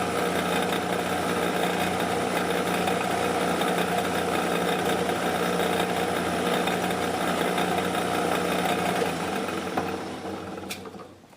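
A carbide boring bar in a boring head cuts a workpiece on a machine, producing a loud, continuous mechanical whir with fine rattling that holds steady before winding down at the end.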